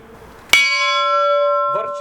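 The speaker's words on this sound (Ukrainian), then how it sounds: "пролунав символічний дзвін" One loud strike of a memorial bell at a ceremony honouring fallen soldiers, the tone ringing on and slowly fading, followed by the start of a voice speaking.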